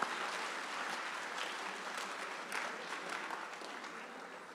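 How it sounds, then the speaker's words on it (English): Sustained applause from an audience at a senior awards ceremony honoring students, a steady wash of many hands clapping at moderate distance without talk. "let's give these students a round of applause for their excellent achievement"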